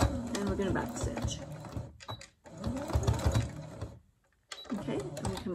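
Sewing machine backstitching while attaching Velcro, a steady mechanical whir in bursts broken by short pauses, close and fairly loud, with a person talking over much of it.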